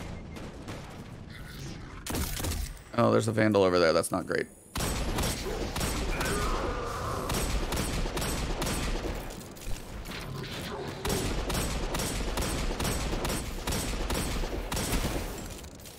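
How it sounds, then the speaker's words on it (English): Rapid hand cannon gunfire in the video game Destiny 2 during a K1 Communion lost sector run, with repeated sharp shots and mechanical clatter through most of the stretch, under a voice. "I'm gonna have to start shooting him with a hand cannon from here"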